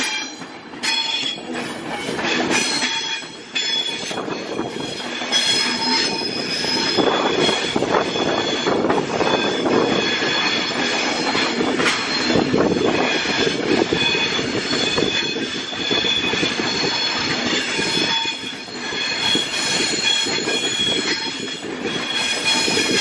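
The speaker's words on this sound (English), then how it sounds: "is the Avanti West Coast service to Edinburgh Glasgow, as here it is." A passing train at Crewe station, an Avanti West Coast service bound for Edinburgh and Glasgow, rumbles loudly and continuously with wheel squeal and rail clatter, sustained close by throughout.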